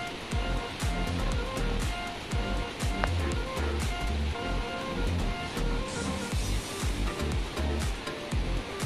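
A small stream flows beneath a rock arch at Kabaragoyi Dola, its water low after dry weather, giving a steady, loud rushing wash that continues without pause throughout.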